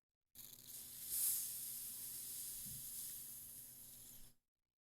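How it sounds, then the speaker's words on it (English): A freshly opened bottle of Brewer's Best Snak Air Brown Ale homebrew gives a soft, steady fizzing hiss that lasts about four seconds. It is quiet and close, with a slight swell near the start and no talking. "we also hope that we hear a fizz"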